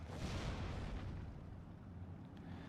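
A German 88 mm gun fires in the WWII strategy game Steel Division 2, a single deep, booming report at the start that rolls off into a fading rumble, fairly quiet overall.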